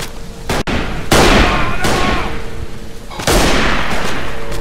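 Rifle gunshots in the World War I shooter game Verdun, several sharp loud cracks with long booming echoes, spaced about a second or two apart amid heavy battlefield noise.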